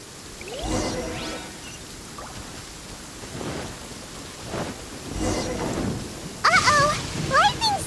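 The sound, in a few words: thunderstorm with rain and thunder in the video game Genshin Impact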